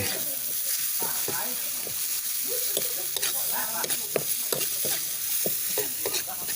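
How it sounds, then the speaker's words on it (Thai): Large freshwater clams stir-fry with holy basil in a hot pan, giving a continuous close sizzle broken by rapid scraping and clattering stirs throughout. "คั่วไปสักพักหนึ่งนะครับ เผื่อหอยมันซุกนะครับ"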